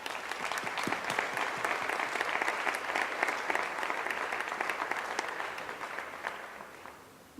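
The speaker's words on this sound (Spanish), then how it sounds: "le diéramos un fuerte aplauso a nuestra señorita" Steady, full audience applause at an open parliament session in Zacatecas for a nine-year-old girl, dense clapping from a sizable crowd sustained for about seven seconds before tapering off.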